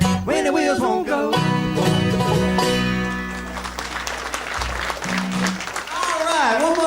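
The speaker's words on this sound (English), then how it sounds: "one more nice round of applause if you would" Audience applause at a bluegrass society concert, following a song with 5-string banjo; the clapping runs as a broad wash under band instruments still ringing, with tonal lines throughout.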